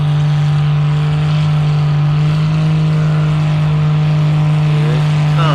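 A tractor engine at a tractor pull at the Florida Flywheelers in Fort Meade, Florida, holds a loud, steady low roar that grows slightly in the final seconds.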